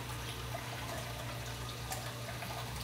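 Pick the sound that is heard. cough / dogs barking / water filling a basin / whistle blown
water filling a basin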